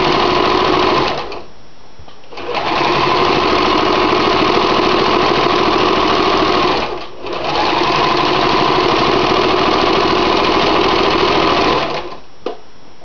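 A sewing machine stitches thick fabric for a small drawstring bag, loud and close, running steadily in long bursts with two brief pauses where it stops and restarts.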